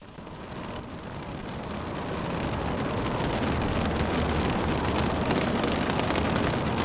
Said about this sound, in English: Raining quite heavily.